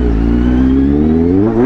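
A Kawasaki Z800 motorcycle engine revving up close during a test ride, a loud, deep, rich roar whose pitch climbs steadily through a short burst.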